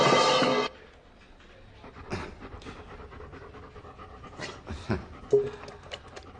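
A dog pants loudly and quickly up close at first, then gives soft, scattered whimpers and sniffs at a quieter level.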